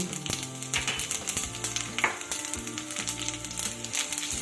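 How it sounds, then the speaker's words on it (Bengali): Dry red chillies and a spoonful of panch phoron frying in hot oil on lowered gas, a steady close sizzle with light crackles and a few sharp pops and spoon clicks, no talking. "এবার ফোড়নটাকে সুন্দর করে একটু ভেজে নিতে হবে"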